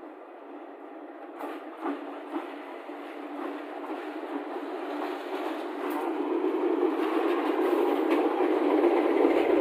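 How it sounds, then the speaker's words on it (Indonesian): A Pasundan passenger train in Indonesia rumbles past steadily, its broad rushing noise growing louder toward the end, with faint rhythmic clatter from the wheels. "Kereta api Pasundan bersilang dengan kereta api lokal Garut Cibatuan."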